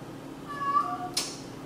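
A cat yowls as if in heat, one drawn-out rising-and-falling meow followed by a brief sharp cry, fairly faint and close.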